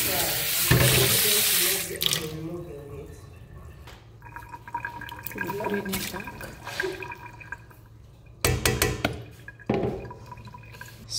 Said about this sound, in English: I sieve away the water